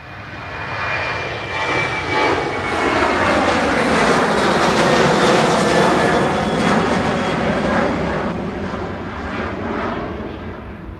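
A Ryanair airliner takes off at Lisbon airport, its jet engines a loud, broad roar that swells and holds steady as the plane passes fairly close, then slowly eases off.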